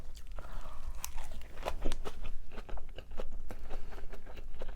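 Crunchy raw carrot being bitten and chewed during a vegan mukbang, with repeated crisp close-up crunches and chomps, no talking.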